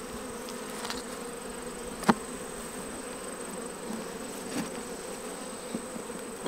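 Honeybees buzz around an open hive box in summer, a soft, continuous hum from many insects close by, with a few faint clicks and bumps breaking through.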